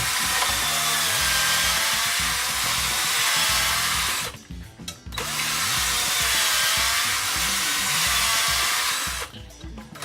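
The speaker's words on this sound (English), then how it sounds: "we take it on a drill, just a real slow speed, and we go in each valve casing" A power drill whirs steadily at low speed while polishing brass instrument valve casings, pausing briefly twice before spinning up again, close and continuous.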